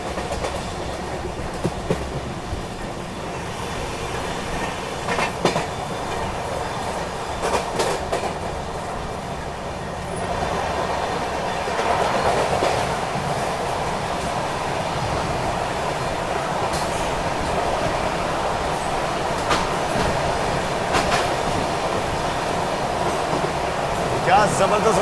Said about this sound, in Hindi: हमारी ट्रेन स्किप करने वाली है।